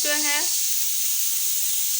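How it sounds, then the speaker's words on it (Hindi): Steady, loud steam hissing out of a pressure cooker in a continuous high rush after the whistle is lifted, with a brief whistle-like tone at the start fading into the hiss. "सीटी को उठा दिया गया है। अब इसकी ये जो हवा है ये ख़त्म होगी"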